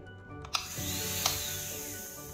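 Saeshan Strong 90 dental micromotor running steadily after a brief click, its speed rising into a sustained high-pitched whine with a faint hum underneath, close and alone.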